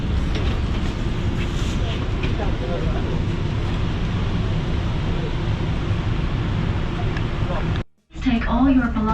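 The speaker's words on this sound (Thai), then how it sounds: "เตรียมเข้ารถไฟแล้ว" Steady, loud rumble and clatter of a train ride in Luang Namtha, Laos, running continuously before a brief cut, with voices faintly audible beneath the noise.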